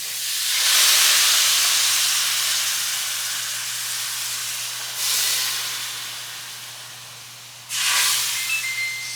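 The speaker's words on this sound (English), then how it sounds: "I'm just going to add some shrimp stock to this pot right now." Shrimp stock poured into a hot pot of vegetables for coconut curry shrimp bursts into a loud, close hiss of steam that fades slowly, then flares again twice in sharp surges, with no talking.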